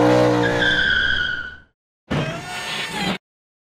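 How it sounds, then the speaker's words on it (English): A race car skids with a loud, sustained tire squeal that fades out, then after a short silence a second, harsher burst of squealing tires and engine noise cuts off abruptly. "race car."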